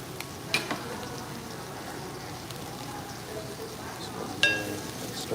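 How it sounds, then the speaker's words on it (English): Onions sizzle steadily in olive oil in a pan, a soft continuous crackle broken by two sharp clacks of a utensil stirring against the cookware. "Stir that olive oil around with our onions."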